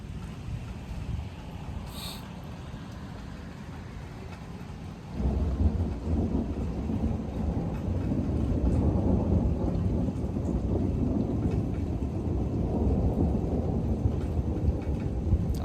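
Thunder from a thunderstorm rolls in as a deep, sustained rumble that swells abruptly partway through and stays loud, with steady rain hiss beneath it.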